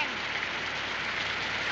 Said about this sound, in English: I mean, certainly it's raining.